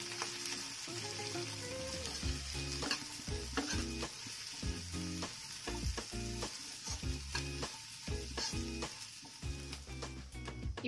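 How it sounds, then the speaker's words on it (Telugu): Capsicum and cabbage stir-fried in a pan for street-style egg noodles, a steady loud sizzle broken by frequent clattering scrapes of the spatula, with no voices. "కొద్దిగా క్యాప్సికమ్, కొంచెం క్యాబేజీ వేసుకొని మగ్గే వరకు ఉడికించుకుంది."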